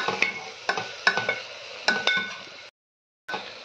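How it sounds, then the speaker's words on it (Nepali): A metal spoon stirs and fries coriander powder and cumin powder with potatoes and chickpeas in a pan for aloo thukpa, making a soft sizzle punctuated by repeated clinking scrapes, then a short pause before the stirring resumes. "धनिया पाउडर जिरा पाउडर सबै हालेर चाहिँ अब यसलाई चाहिँ हामी चलाउनु पर्छ"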